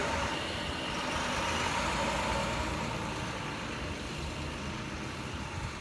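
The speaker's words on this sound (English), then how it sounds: "I'm just going to wait till this truck goes by." Truck passing on a road next to Fishing Creek, a loud continuous engine and tire roar that holds steady across the whole stretch and fades only slightly toward the end.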